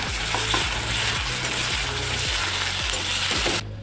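A spoonful each of garlic paste and ginger paste sauté in hot oil, a continuous close sizzle with rhythmic spatula scrapes against the pan every half second, ending abruptly, with no talking.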